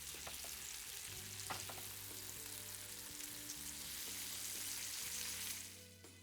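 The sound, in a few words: meatballs frying in hot oil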